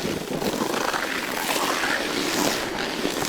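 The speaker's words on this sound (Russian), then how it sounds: "Но звук разрезаемого льда, конечно, он просто адский." Mountain bike tires cutting through a frozen ice crust while riding in -20C winter cold, a loud continuous crunching and hissing rush heard close up, mixed with wind buffeting the microphone.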